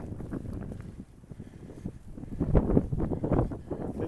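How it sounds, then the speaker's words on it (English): Steady wind blows across the microphone outdoors while someone walks through falling snow on a city street beside a creek, a rough low rumble that swells and gusts louder near the end. "get that wind behind us instead of in our face"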